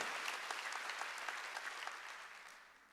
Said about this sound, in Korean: 박수 치라는 거예요